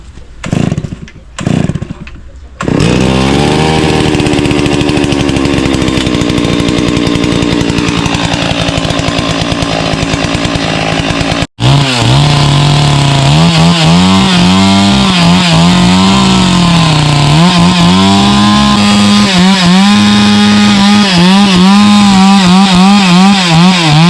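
A chainsaw cuts into tree roots. The engine snarls loudly and up close, roaring steadily under load for many seconds, then cuts out briefly and revs back up, its pitch wavering as the chain bites.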